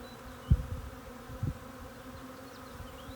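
Honeybee swarm being caught and put into a hive box, a faint steady buzzing hum with two brief louder knocks of handling near the start.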